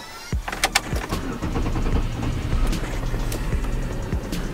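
A Buick Rendezvous CXL engine cranks with a few sharp clicks and bursts, then catches and settles into a steady, close rumbling idle.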